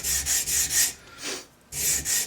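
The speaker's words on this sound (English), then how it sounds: "I can leave the knife on the sandpaper coming forward" Knife blade stroked repeatedly across sandpaper while its edge is convexed and thinned, a steady run of raspy rubbing passes close up, pausing briefly before resuming.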